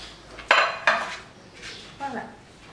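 Cupcake batter with melted chocolate and chocolate pieces is mixed in a bowl, heard as a few distinct clinks and scrapes of a utensil against the bowl with quiet gaps between.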